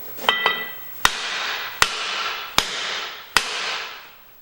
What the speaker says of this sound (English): I whacked on it with a hammer and it came off